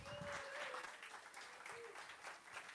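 Audience applause welcoming a speaker at an evening lecture series, steady clapping from a modest crowd at moderate distance, faint and continuous.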